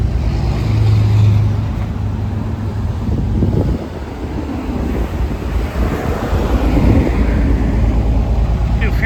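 1986 Pontiac Fiero GT engine idling after a fuel pump replacement, a low rumbling drone under wind buffeting on the microphone, with a brief deeper hum early on and a voice speaking partway through.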